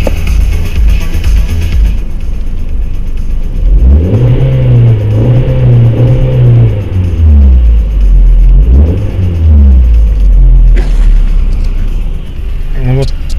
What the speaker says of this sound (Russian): Ну вот, погазовал немножко.